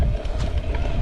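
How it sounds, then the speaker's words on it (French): Wind gusting and buffeting the microphone during a long-distance hike, a loud continuous rumbling roar. "Il y a un peu de vent en plus."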